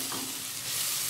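Ginger and garlic with a little turmeric frying in a pan, a dense close sizzle that holds steady for a moment with a light stirring rustle.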